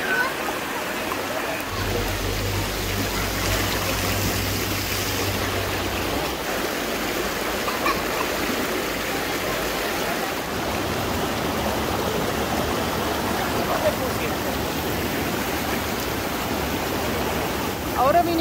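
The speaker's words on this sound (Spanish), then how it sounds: "Acá la corriente es más fuerte porque va empajada." A strong river current rushes through La Fortuna, Costa Rica as a loud, steady wash of churning water. A low rumble sits beneath it early on, and no voices come through.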